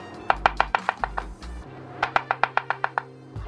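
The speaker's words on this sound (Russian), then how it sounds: "Авокадо режу небольшими кубиками." A knife chops rapidly through avocado on a cutting board, dicing it into small cubes in two quick runs of crisp, evenly spaced taps, separated by a short pause.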